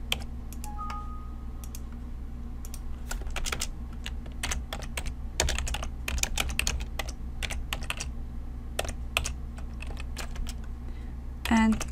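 Computer keyboard typing while entering VBA code in Excel: rapid irregular key clicks in bursts over a low steady hum, close and clear, with brief pauses between bursts.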